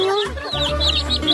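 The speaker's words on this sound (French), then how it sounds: "Regardez, c'est des vrais poulets. Oh, regardez ces poussins." Real chickens and chicks cluck close by in a loud run of throaty, repeated clucks with thin higher peeps over them.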